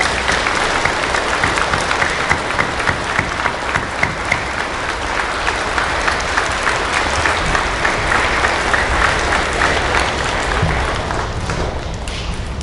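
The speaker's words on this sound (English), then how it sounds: "How about a big round of applause for our service members?" A large audience applauds service members at a Veterans Day event, steady dense clapping sustained and loud throughout, easing slightly near the end.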